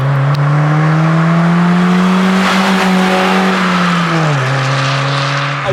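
A Nissan Micra K11 rally car engine revs hard and steady up close on a bumpy road, pitch climbing and dipping as it works through the gears, loud and continuous with no talking.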